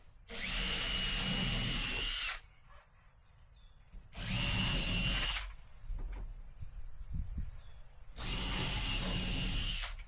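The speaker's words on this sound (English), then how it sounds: "bit swap between the pilot drill and the countersink" Three bursts of a power drill whining at high speed while drilling pilot holes in timber roofing, each about two seconds long, separated by quiet pauses with small clicks and handling noises.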